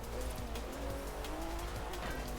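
Porsche 911 Turbo in a racing video game, a steady engine drone with tire squeal from continuous driving, held at a low level throughout.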